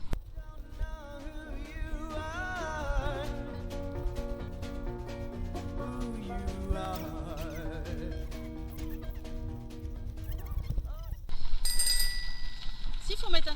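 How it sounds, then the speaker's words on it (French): A bicycle bell rings at a busy cyclist crossroads in a French city, with repeated bright dings over continuous street and traffic noise, while people talk nearby. "il faut mettre un coup de sonnette parce que en fait, c'est un gros carrefour à cyclistes"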